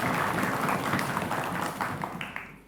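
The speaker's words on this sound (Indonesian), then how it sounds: "Tepuk tangan dong" An audience at a school quiz competition applauds the judges' panel. The dense, lively clapping fills the hall and fades slightly toward the end.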